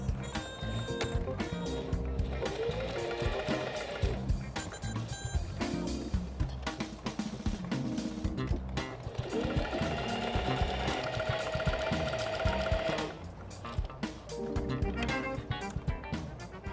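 Sewing machine stitching all the way around a fabric pencil case, a rapid mechanical whirring chatter in long runs with brief pauses and pitch shifts as speed changes, close and steady.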